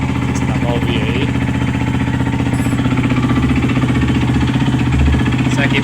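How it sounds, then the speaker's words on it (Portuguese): A Yamaha Lander 250 motorcycle engine idles close and loud with a rapid, rhythmic knocking clatter from a worn connecting rod bearing, continuous throughout. "Isso aqui provavelmente é rolamento de biela."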